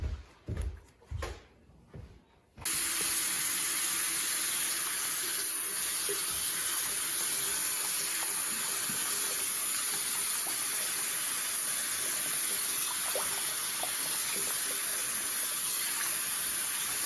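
Lukewarm water gushes steadily from a tap as an orchid is rinsed under it, a continuous close hiss that follows a few brief handling knocks at the start.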